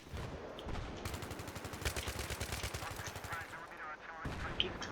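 Rapid automatic gunfire rattles out in Battlefield 3, a dense run of loud shots that continues for several seconds, then a brief pause before more fire.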